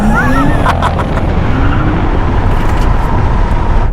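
Tesla Model X P100D launching in ludicrous mode: a loud, close electric motor whine that rises in pitch under strong road and wind noise, with a brief voice early on.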